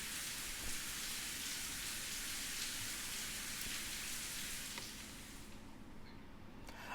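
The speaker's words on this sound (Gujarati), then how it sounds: "ભારે પવન સાથે ધોધમાર વરસાદ વરસી રહ્યો છે" Heavy rain pours down alongside strong wind in Gujarat, a loud, dense hiss that holds steady before easing slightly near the end, with no voices present.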